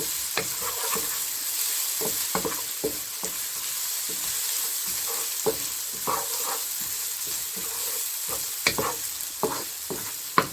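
Onions and spices sizzle and fry in a pan for potato samosa filling, a steady close hiss broken by frequent sharp stirring scrapes and clicks throughout.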